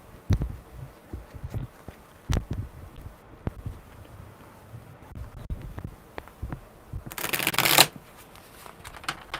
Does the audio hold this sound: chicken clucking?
no